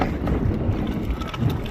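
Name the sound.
strong wind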